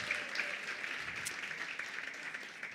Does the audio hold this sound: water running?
no